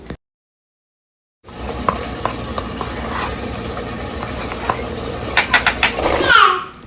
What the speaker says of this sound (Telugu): నార్మల్ కూర కారం 1 స్పూన్, ధనియా పౌడర్ 2 స్పూన్లు, గరం మసాలా కొద్దిగా, ఇవన్నీ వేసి బాగా మిక్స్ చేసుకోవాలి.